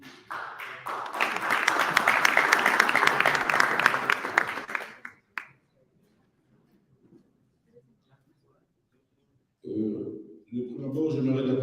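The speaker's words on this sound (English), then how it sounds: "Please applause." An audience at a youth human rights summit applauds loudly for several seconds, the clapping fading out into a stretch of silence before a voice begins speaking.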